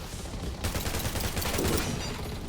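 Sustained gunfire in the video game Undawn, a dense rapid volley of shots filling the whole stretch at steady loudness with no pause, like automatic weapons trading fire in a firefight.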